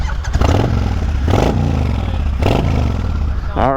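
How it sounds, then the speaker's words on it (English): A motorcycle engine starting and revving, either a Kawasaki Vulcan or a Harley Pan America, loud and close, with the rumble rising and falling through the short burst. "Let's turn my bike on."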